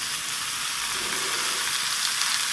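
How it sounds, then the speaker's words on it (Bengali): Chopped papaya, potato and carrot fry together in a pan for a chicken stew, giving a steady, close, unbroken sizzling hiss with no voices. "পেঁপে আলু গাজর সব একসাথে আমি সুন্দর করে ভেজে নেব"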